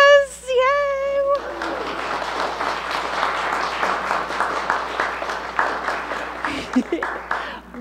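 A church congregation claps during a worship service, steady applause lasting several seconds after a brief sung or spoken tone at the start, with a voice cheering faintly near the end.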